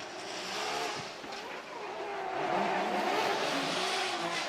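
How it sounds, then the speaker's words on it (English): A super lightweight E92 BMW drift car at Formula Drift Japan holds a steady, loud engine roar that swells after a brief dip, with tire noise running under it and no talk. "Currently second in the series in this super lightweight E92 BMW."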